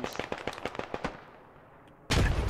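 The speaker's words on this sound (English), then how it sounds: "Explosions" Rapid gunfire cracks and blasts ring out in a first-person shooter game, a burst of sharp shots in quick succession that fades, then a loud explosion erupts near the end.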